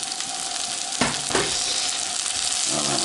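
Onions sizzling in a little fat in a hot pan, a loud steady hiss close by with a couple of brief bursts as they are moved around.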